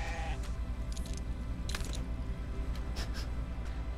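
Sheep in the video game GrowHome bleat in a few short, fairly faint calls over a low steady hum.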